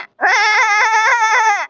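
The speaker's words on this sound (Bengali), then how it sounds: "প্রথমেই হচ্ছে এই ছাগল।" A goat gives one loud, close bleat, a wavering, quavering cry lasting about a second and a half, alone without other sounds.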